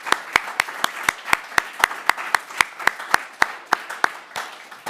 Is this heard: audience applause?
yes